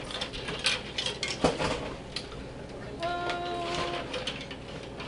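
Metal canning jar lid and ring handled for spicy black beans, light clinks and rattles up close, followed by a brief faint ringing tone, under soft background noise.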